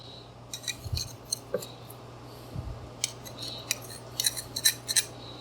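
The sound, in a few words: cutting basil for garlic knots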